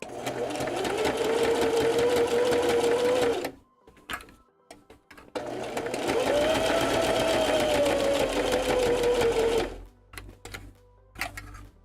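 A sewing machine stitches a seam on a puppet in a crafting session, running loudly in two long continuous bursts with a steady whirring motor tone, separated and followed by brief pauses filled with small clicks and handling noises.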